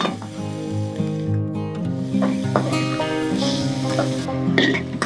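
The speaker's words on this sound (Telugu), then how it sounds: "మెంతికూర పూర్తిగా వేగిపోవాలి ఈ ఉల్లిపాయలు" Fenugreek leaves, coriander and onions fry in a pan with a soft, continuous sizzle, largely masked by tonal background music throughout.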